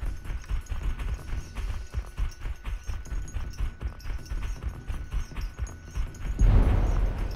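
A horse gallops in the PUBG Mobile video game, its hoofbeats making a continuous rapid thudding rhythm that stays moderately loud with no talk, and it swells briefly near the end.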